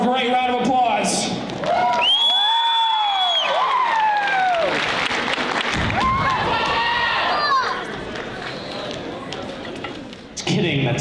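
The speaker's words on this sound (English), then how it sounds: "let's give Grason a great round of applause" A talent show audience greets a comedy performer with applause and cheering, crowd noise mixing with loud tonal swoops and sliding pitched sounds, a voice speaking over parts before the clapping thins toward the end.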